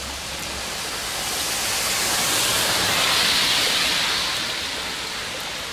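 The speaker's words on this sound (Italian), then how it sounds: "si è abbattuto un forte temporale, un forte acquazzone che è durato più di tre quarti d'ora" Heavy thunderstorm downpour in Foggia, a dense, continuous roar of rain swelling slightly in the middle, loud and close with no voices.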